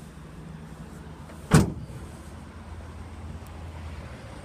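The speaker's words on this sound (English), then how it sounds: "This does have the easy lift and drop tailgate." The easy lift and drop tailgate on a 2018 Chevrolet Silverado 1500 LT gives one sharp, solid clunk partway through, set against a steady low outdoor background.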